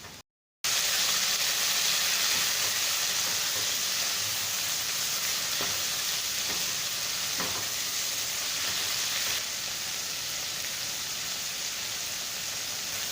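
Tomatoes hit browned onions in a hot pan and fry with a loud, continuous sizzle and hiss, broken by a few soft stirring knocks, heard alone and close.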